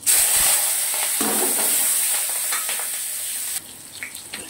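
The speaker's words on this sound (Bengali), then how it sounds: "কাঁচা লঙ্কা, তেজপাতা, জয়িত্রী, ছোটো এলাচ, লবঙ্গ, দারচিনি, সাদা জিরে এটা দিয়ে দিলাম।" Whole spices hit hot oil: green chillies, bay leaves, mace, small cardamom, cloves, cinnamon and cumin seeds. A loud bright hissing sizzle bursts in and stays steady, then drops sharply toward the end, with a few faint clinks.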